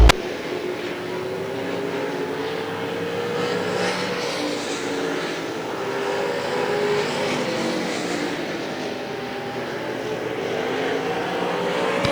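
Race cars circling Hagerstown Speedway during qualifying, a continuous engine drone with rising and falling pitch as cars pass, steady and fairly loud throughout.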